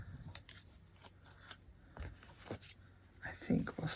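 Scissors trim paper for a craft project in a series of short, close snips and rustles, spaced irregularly, while a person talks quietly.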